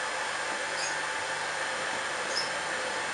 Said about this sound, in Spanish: Y lo tenemos que batir muy bien hasta que triplique o duplique su volumen.